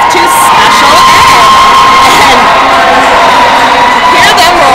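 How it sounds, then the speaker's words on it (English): A roller derby crowd cheers and roars loudly and continuously, with shrieks, whoops and yells piled into a dense wall of noise that holds from start to finish. "And hear them roar"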